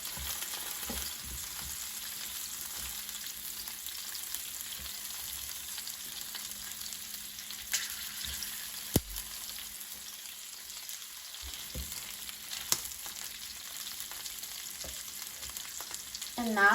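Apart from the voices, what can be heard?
chicken drumsticks pan-frying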